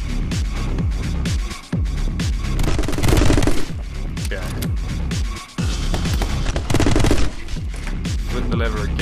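Dense, loud gunfire from the action video game My Friend Pedro, fired at a lever, with rapid shots over a driving music track for the whole stretch.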